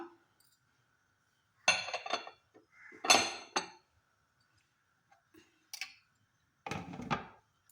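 A metal cake tin for a steamed, flourless yoghurt mango cake is set down into a steamer pot and its lid shut, giving several separate bursts of clanking and clinking metal with short quiet gaps between them.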